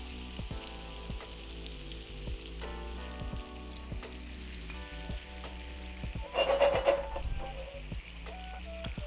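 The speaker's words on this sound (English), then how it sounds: "We're gonna let this cook on the first side for about a minute and a half." Shrimp with garlic and soy sauce frying in a pan: a steady soft sizzle with scattered crackles and pops, briefly louder near the end, with no voices.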